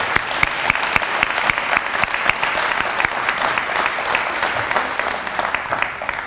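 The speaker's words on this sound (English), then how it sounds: "Let's give them a great round of applause." Audience at a chamber of commerce business awards lunch gives a hearty round of applause, many hands clapping steadily with sharp individual claps standing out near the front, sustained and fairly loud with no talking over it.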